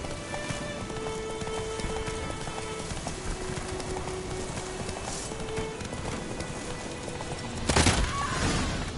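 Clip-clop of the horse Roach galloping in Witcher 3, a steady rhythmic run of hoofbeats under rain-like game ambience, with a louder burst of noise near the end.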